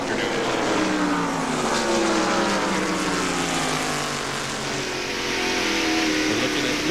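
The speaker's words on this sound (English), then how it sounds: "That engine is still turning as many RPMs as it has all afternoon." Ford stock car sponsored by Valvoline racing at Martinsville, its engine a continuous high-revving drone with shifting pitch sweeps, held steady and fairly loud throughout as in a race broadcast.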